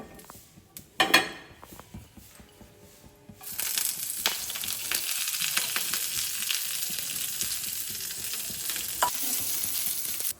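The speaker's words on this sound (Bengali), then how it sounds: "এবার আমি এখানে মেথি শাক যেটা দেখলে, ওটা আমি 1 চামচ তেল, 1 চামচ তেলে জাস্ট একটুখানি নেড়ে নেবো" Fenugreek leaves being stirred in a spoonful of hot oil while cooking methi chicken: a few clinks and scrapes at first, then steady sizzling from about the third second onward with occasional spoon scrapes, close and moderately loud.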